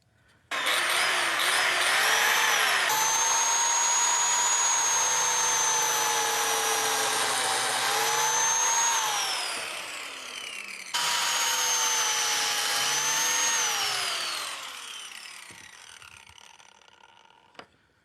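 Biscuit joiner slotting wood: the blade whines up to speed, cuts with a loud steady buzz, spins down, then a second slot is cut the same way, close and alone.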